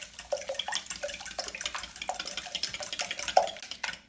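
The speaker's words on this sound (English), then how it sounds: "Then you just want to whisk." Eggs being whisked in a bowl for a breakfast recipe, a quick series of close, light clinking strokes in an uneven rhythm with no talking.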